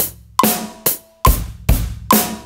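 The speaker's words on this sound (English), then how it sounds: "So we'll run the metronome." A drum kit plays a slow beat at 70 bpm with a metronome: five loud, punchy hits spaced evenly, each with a sharp click and decaying ring, close and alone with no talking.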